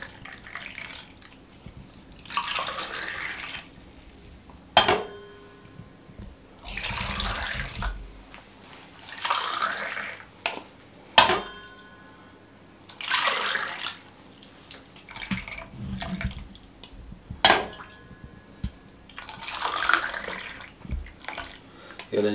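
Thick ice cream mixture is poured into moulds in several short, wet splashing bursts, each a few seconds long, with sharp clinks of the container between pours. A person speaks softly in the background.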